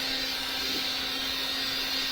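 A hair dryer blows a steady, even whir of air while drying fabric ink on a shirt or jean jacket, running close and continuously with no pauses or voices.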